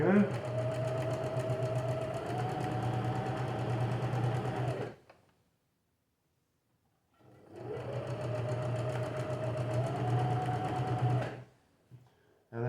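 Sewing machine stitching through the folded corner of a custom fitted sheet, two long steady runs of rapid mechanical whirring separated by a silent pause, close and loud.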